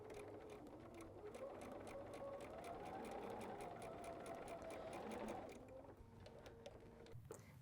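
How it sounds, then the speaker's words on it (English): A sewing machine stitches a quarter-inch seam for a quilted tea-and-cookies project, whirring quietly and steadily for about five seconds before stopping. "going to that machine and sewing 1/4 inch"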